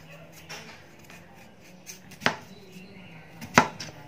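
A few sharp knife chops on a cutting board as garlic is cut, spaced irregularly, with two especially crisp, loud strikes near the end and quiet room noise between.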